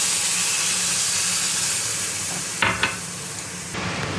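Semolina dough with salt and water is stirred in a hot pan as it thickens. A continuous sizzling hiss runs under scraping strokes, with a couple of sharper clatters of the spoon near the end.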